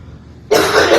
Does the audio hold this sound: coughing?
yes